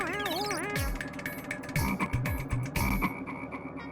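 A frog croaks in a comedy TV episode: loud, repeated deep croaks, some bending downward, mixed with warbling tones and sound effects.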